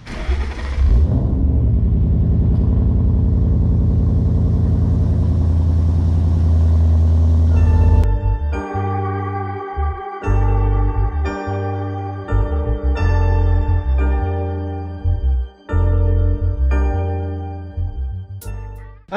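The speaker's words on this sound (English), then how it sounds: "I'm going to give you a nice cold start. Pipes, off-road X pipe, and this is Dynamax Bullet mufflers on a first gen Coyote." First-gen Coyote V8 in a Mustang cold-starting through an off-road X pipe and Dynamax Bullet mufflers: a loud starter crank and rumbling high idle, then cutting out and firing again in several sharp, gappy revs.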